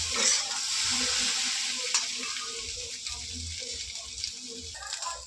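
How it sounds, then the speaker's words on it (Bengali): Soybean chunks frying in a wok with oil, a soft continuous sizzle under repeated scraping stir strokes of a spatula, close and moderately quiet throughout. "সয়াবিনটা কিন্তু আমি দিয়ে দিয়েছি কড়াইতে। এবার এটাকে ভালো করে ভেজে নেব।"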